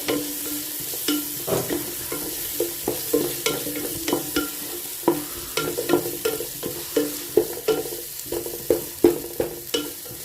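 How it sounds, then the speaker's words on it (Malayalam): Chopped onions fry in a hot pan while being stirred, with a steady sizzle broken by repeated rhythmic scrapes and knocks of the spoon, close and clear with no voice. "അതിലേക്ക് ഇടുന്നത് ഇത് നമുക്ക് നല്ലോണം ഒന്ന് ഇളക്കിട്ട് ചൂടായി കിട്ടട്ടെ"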